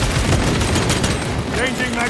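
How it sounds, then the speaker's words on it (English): Frag grenade blast and surrounding combat in Warhammer 40,000: Space Marine 2, a loud dense barrage of booms and gunfire running throughout, with battle voices over it. "Frag grenade deployed."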